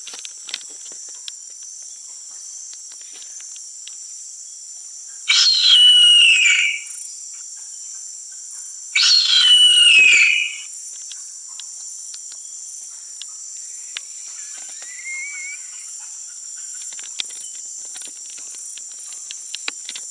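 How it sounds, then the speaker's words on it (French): Two harpy eagle calls played back through a speaker to scare off macaques in the bush, each a loud, descending shriek lasting about a second and a half and spaced a few seconds apart, over steady insect and cricket chirring. "Des macaques, je vais leur foutre le cri de la harpie."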